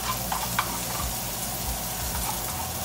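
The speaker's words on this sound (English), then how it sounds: "I am actually frying an egg and a sausage patty and making a sandwich, a breakfast sandwich." An egg and a sausage patty fry in a pan for a breakfast sandwich, a steady close crackling sizzle with faint pops and light scraping throughout.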